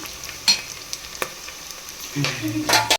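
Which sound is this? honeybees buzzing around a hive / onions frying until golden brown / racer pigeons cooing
onions frying until golden brown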